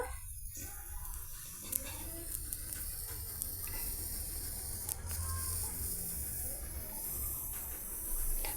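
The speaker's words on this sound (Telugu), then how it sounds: "బాండ్లీలో ఆయిల్ యాడ్ చేసేసి ఆయిల్లో ఈ పీసెస్ని యాడ్ చేద్దామండి" Pieces of bitter gourd fry in hot oil in a pan over high flame, a faint, steady sizzling hiss broken by a few small crackles and light ticks.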